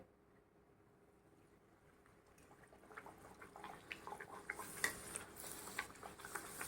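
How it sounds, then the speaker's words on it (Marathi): Masala pooris made with moong dal are frying in hot oil, a soft bubbling hiss that starts quiet and builds into louder, steady crackling with small pops. "तर आता आपण तळायला घेऊया"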